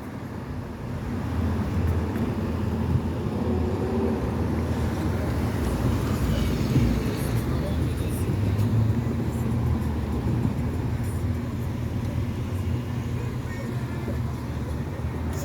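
Steady low rumble of cars idling and moving through the Jackson Square intersection in congested traffic, a continuous roadway drone with some wind on the mic and someone talking over it.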